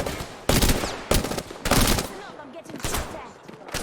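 Prowler gun in Apex Legends firing in full-auto bursts, loud sharp volleys of rapid shots coming in several clusters with brief gaps between them, amid game effects.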